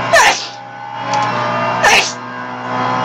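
A single sharp sneeze bursts out near the start, followed by a second sneeze about two seconds later, over a steady low background hum.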